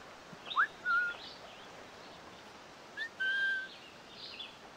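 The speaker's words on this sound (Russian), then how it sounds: "не слышит у нас свист" Two short whistles in Assassin's Creed Rogue, a rising chirp then a steady held note, repeated twice a few seconds apart over faint ambient game noise; no talking.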